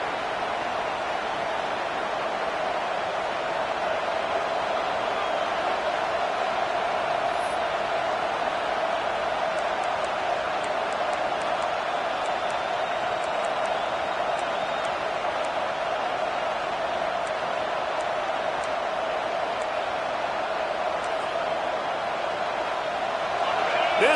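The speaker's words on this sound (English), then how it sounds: "This crowd bringing the energy and noise early." A packed football stadium crowd at Tennessee vs Georgia roars as a dense, continuous wash of noise, loud and unbroken for the whole stretch.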